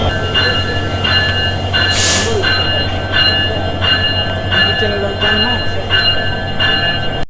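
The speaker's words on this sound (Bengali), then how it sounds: "দেখতে পাচ্ছেন এই হচ্ছে ট্রেনের ইঞ্জিন" A loud, steady diesel locomotive engine rumble at Cox's Bazar railway station, with a constant low drone and tonal hum, with a brief hiss of air partway through.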